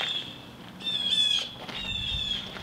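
Birds chirp outdoors beside a long-forgotten VW Beetle being revived, with three separate bursts of thin, high tweets spread over a faint background hum.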